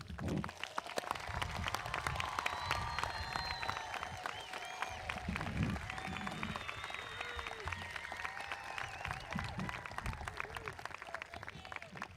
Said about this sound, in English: would you join me in a big round of applause to recognize these students?